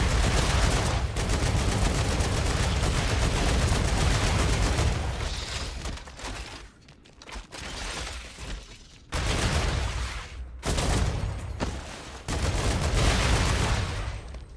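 Dense automatic gunfire and bursts of shooting in the StarRupture video game, loud and sustained, breaking off into short gaps before resuming in heavy volleys.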